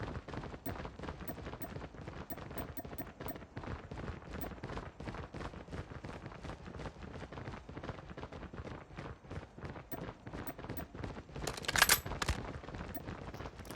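Rapid bursts of gunfire from a Call of Duty Mobile match, dense and continuous, with sharp repeated shots over a busy battle mix and a louder cracking burst near the end.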